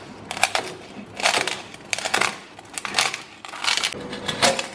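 Knife slicing through crispy crackling pork with a hard-baked rind, giving four sharp bursts of crunching spaced about a second apart, close and clear with no talking.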